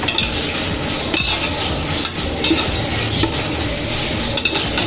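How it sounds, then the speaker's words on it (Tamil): Ginger-garlic masala frying in oil and being stirred continuously for quail biryani, a loud close sizzle with constant scraping and clinks of the spoon against the pot, no talk. "அடி பிடிக்காத அளவுக்கு கிண்டி விட்டுக்கோங்க."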